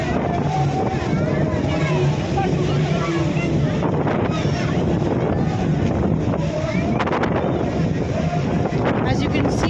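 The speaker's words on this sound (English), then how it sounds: "this is the rough shores of the Arabian Sea" Rough waves along the rocky shore of the Arabian Sea at Kanyakumari: a loud, constant roar of surf mixed with heavy wind buffeting the microphone, with voices faintly underneath.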